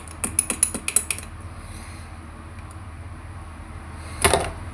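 A spoon stirs a homemade ragi health drink in a glass, a quick run of light, bright clinks followed by a pause of near silence, then one more short clatter.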